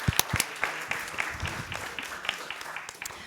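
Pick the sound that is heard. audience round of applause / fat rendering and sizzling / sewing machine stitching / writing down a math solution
audience round of applause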